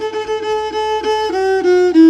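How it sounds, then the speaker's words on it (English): Violin plays the finger pattern exercise from Barbara Barber's Fingerboard Geography, a short run of clear bowed notes stepping through a pattern, up close and alone with no talking. "the finger pattern exercise from Barbara Barber's Fingerboard Geography, which sounds like this"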